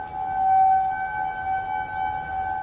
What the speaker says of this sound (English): They are outdoor warning sirens.